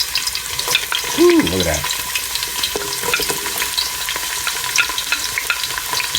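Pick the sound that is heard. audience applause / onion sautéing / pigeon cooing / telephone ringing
onion sautéing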